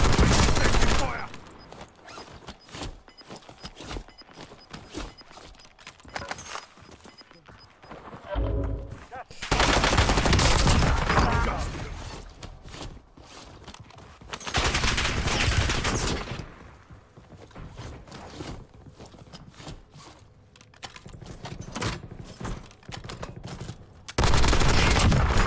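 Gunfire in the Warzone battle royale game, with dense bursts of automatic fire and single shots, loud and close, in uneven waves over more than twenty seconds.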